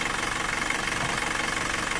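A 2016 Isuzu pickup engine running with its fan clutch being checked, giving a steady, loud mechanical drone with a fast even pulse throughout, close up and without talk.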